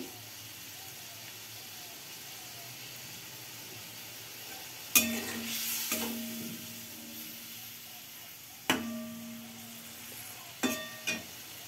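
Cauliflower pieces tipped into a hot pan of sabji-diye rui fish curry, three sharp bursts of sizzling and spattering rising over a quiet simmering hiss, each fading after a second or two.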